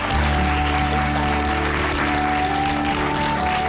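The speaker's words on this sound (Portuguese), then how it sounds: "Um grande aplauso para os três" Loud, sustained applause from a large studio audience on a television talk show, a dense, even wash of clapping filling the whole stretch with no talking over it.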